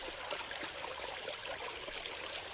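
Fast, clean spring water runs in a steady, broad rush with a trickling hiss, close and continuous, and no voices over it.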